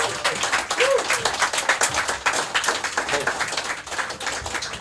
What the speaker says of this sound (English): a big round of applause on the new album